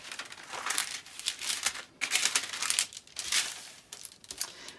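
A paper sewing pattern for a rever front collar is folded back open, giving close, crisp crinkling and rustling in short irregular bursts with brief pauses between.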